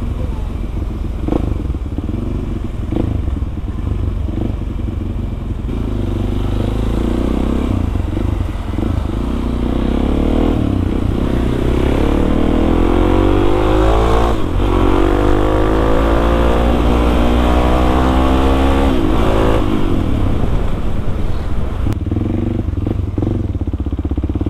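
A Suzuki DRZ400 supermoto ridden through dense city traffic in Bandung, its single-cylinder engine droning loud and close, revving up and easing off continuously over a steady rush of road and wind noise.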